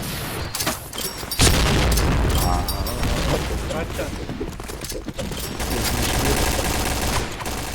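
Grenade blast in the shooter game Point Blank, a loud boom standing out amid continuous gunfire and battle noise, with players talking over the action.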